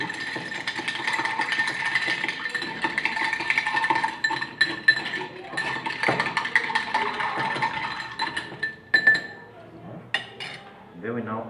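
A bar spoon stirs an Irish whiskey cocktail in a glass, giving a steady run of close metallic clinks and rattles that breaks into a few separate taps near the end, with no voice over it.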